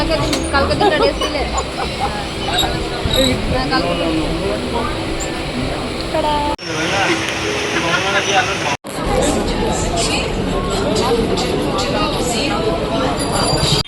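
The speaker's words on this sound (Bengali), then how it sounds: "ট্রেনে চেপে আমরা যাচ্ছি" Loud, continuous rumble and clatter of a moving Kolkata local train from inside a carriage, with crowd chatter and brief squeals throughout.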